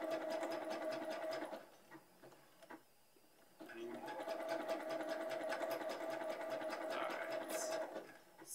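A sewing machine stitching a long sleeve runs in a steady mechanical whir with a humming motor tone, pausing briefly once before resuming, close and moderately quiet.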